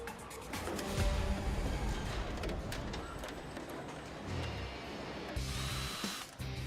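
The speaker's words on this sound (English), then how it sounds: "This team makes using a drill look like spreading butter." A power drill works on car doors on a factory assembly line, with whirring bursts that start and stop among general plant clatter and machinery noise. The sound is close and moderately loud, with no speech.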